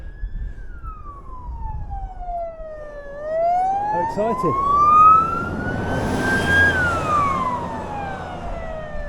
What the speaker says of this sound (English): who exactly he's playing that siren for?